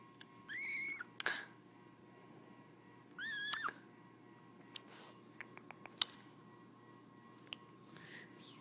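A baby kitten gives two thin, high meows a couple of seconds apart, close but soft in a quiet room, followed by faint clicks and rustles.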